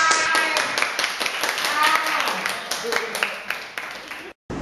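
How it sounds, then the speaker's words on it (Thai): Students in an ASEAN classroom clap for a classmate, a steady dense patter of applause mixed with voices, ending abruptly. "ทุกคนปรบมือให้เพื่อนหน่อย"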